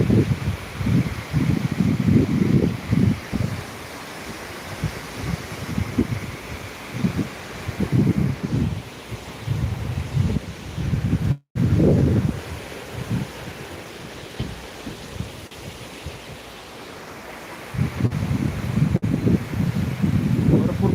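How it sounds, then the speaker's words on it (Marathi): A steady, heavy roar of rushing floodwater in the Bindusara River at Beed, India, fills the scene, with gusts of wind buffeting the microphone on and off. "एखाद्या धबधब्यावर जसा पाण्याचा आवाज येतो की नाही पाणी पडलेला अगदी तसाच मोठा आवाज या ठिकाणी पाण्याचा येतो आहे"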